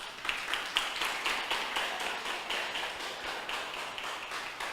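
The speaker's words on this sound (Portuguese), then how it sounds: "Aplauda Jesus." A church congregation applauds during a Sunday service, steady overlapping hand claps rippling in a continuous moderate-level wash with a few sharper claps near the start, no talking.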